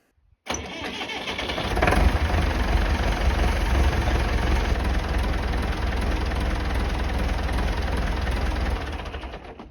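A logging tractor engine cranks and starts, then settles into a steady, loud, low idle that runs throughout before cutting off near the end.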